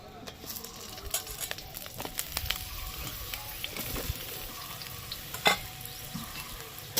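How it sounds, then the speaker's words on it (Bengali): Eggplant frying in oil for a Bengali shukto: a steady, soft sizzle and crackle runs throughout, with light scattered pops and one brief louder clink near the end. "বেগুনটাকে ভেজে নিতে হবে বেগুনটা আবার ভালো করে ভাজতে হবে"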